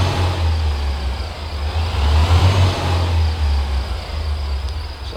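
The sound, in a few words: truck engine pulling out with windows down, American Truck Simulator video game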